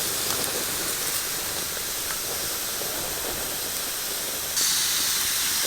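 Chicken cooking inside bamboo tubes set over an open fire gives a steady, loud hiss and crackle of steam and burning that holds unbroken throughout and swells slightly near the end.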